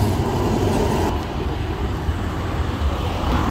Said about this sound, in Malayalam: ട്രാം വരുന്നുണ്ടേ